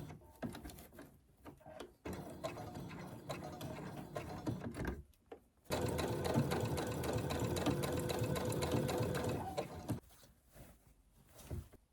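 A sewing machine stitches a seam in stretchy padded fabric for a dog harness, running in bursts of rapid mechanical whirring and clatter, with one long steady run in the middle and short pauses between.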